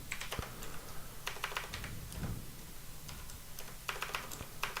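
Bursts of rapid clicky typing on a computer keyboard, close and distinct, separated by brief pauses and light desk sounds.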